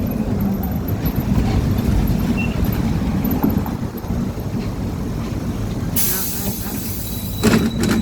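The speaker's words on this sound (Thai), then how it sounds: "เมื่อกี้รถติดจอดน้ำไปหน่อย ตอนนี้รถวิ่งแล้ว" A city bus drives along, its engine and road noise forming a steady loud rumble with hiss, and a brief louder burst of noise near the end.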